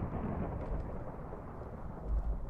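Thunder from lightning in Minecraft, a dense low rumbling roar sustained throughout, swelling slightly near the end.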